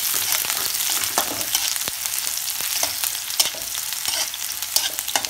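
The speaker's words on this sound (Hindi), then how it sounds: "प्याज गोल्डन ब्राउन कलर होने तक हम फ्राई करेंगे।" Onions sizzle in hot oil in a pan over a slow-to-medium flame while a spoon stirs them, giving a continuous crackling fry broken by scraping clicks, close and moderately loud with no speech.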